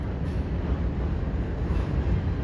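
A CN eastbound mixed freight train rumbles past on the Notre Dame Street overpass, a steady, loud, low roar of rolling cars with no break.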